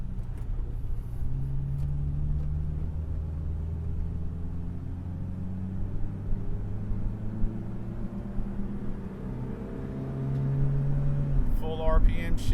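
A 2002 Toyota Tacoma TRD with 94K miles accelerates from inside the cab, its engine droning and rising in pitch through the gears with a smooth shift, steady and moderately loud under someone talking.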